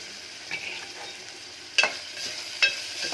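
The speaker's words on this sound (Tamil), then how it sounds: "அதான் இப்போ இடியப்பம் சோறாக கிண்டுறேன்" Soft scraping and stirring in a pan as leftover idiyappam is mixed into rice, a faint low sizzle underneath with two sharper utensil taps against the pan, close and quiet, with no talk.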